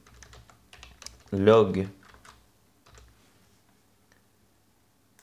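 Code is typed on a computer keyboard while writing JavaScript. The quiet, close keystrokes tick in quick runs, and one short spoken phrase cuts in partway through.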